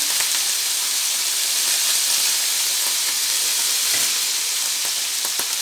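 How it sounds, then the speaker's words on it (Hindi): Potatoes fry with browned onions in a pan, a loud dense sizzle and hiss running without pause, broken by a few sharp clicks and scrapes of stirring, close and alone without speech. "आलू डाल के इनको भूनेंगे।"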